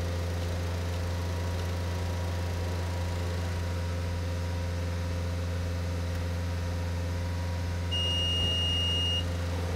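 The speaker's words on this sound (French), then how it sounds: "on effectue le cycle de rinçage moteur tournant à un régime de 2500 tours" Car engine held at a steady 2500 rpm during a Bardahl diesel particulate filter flush cycle, a constant even drone with a low hum throughout, plus a faint electronic beep tone near the end.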